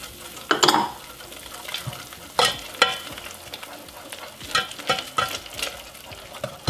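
Butter being stirred into hot caramel in a pan for homemade sesame brittle: a spoon scrapes and knocks against the pan in irregular bursts over a soft, steady sizzle, close by and with no one talking.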